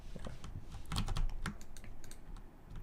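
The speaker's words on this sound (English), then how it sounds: "My mechanical keyboard" Rapid clicky keystrokes from a mechanical keyboard in a gaming setup, a steady close flurry of taps with a few heavier presses, continuing alone without talk.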